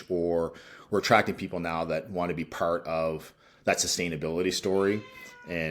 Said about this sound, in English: So I got to apologize if you can hear the cat in the background.